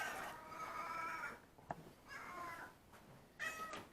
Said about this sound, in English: And that's my cat right there.